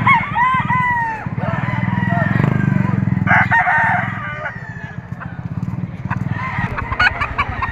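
A yellow-legged bull stag gamecock crows at a livestock auction market in Padre Garcia, Batangas, giving a couple of drawn-out, quavering calls close by over a steady mechanical hum and clucking, while someone talks intermittently.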